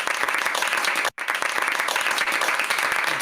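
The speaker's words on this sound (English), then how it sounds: "I think it's time for some applause" Loud, dense applause from a group fills the whole stretch, pausing abruptly for a split second before resuming just as strongly.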